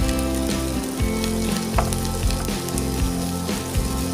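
Ginger-garlic masala with coriander leaves frying in a pot for mutton biryani, a loud steady sizzle under a constant low electrical hum, with a few soft stirring scrapes and no talking.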